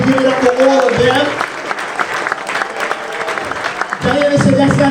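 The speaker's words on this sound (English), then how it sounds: "Give it up for all of them." A watch-party crowd at a special election applauds the core campaign team, with loud, dense clapping filling the room, briefly under a speaking voice at the start and end.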